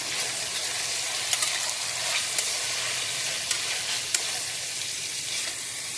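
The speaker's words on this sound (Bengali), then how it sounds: "এটাকে দিয়ে আমি আবার ভালো করে নাড়বো" Ginger-garlic paste sizzles in a pan of chickpea curry while a spoon stirs it, giving a steady broadband fry hiss with a few light scraping ticks, close and even, with no voices.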